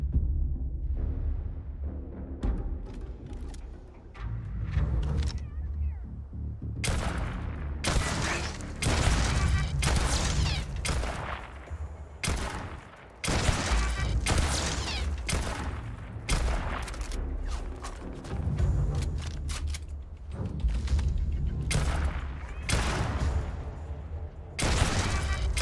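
Turret gunfire in the video game Starfield: dense, loud volleys of shots and booming impacts crowd together in rapid bursts, with a few brief lulls before they resume.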